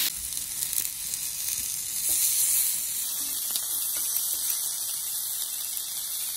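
Unpeeled garlic cloves sizzle steadily in a hot pan, a continuous close crackling hiss with a faint high squeal laid over the latter part and no voices.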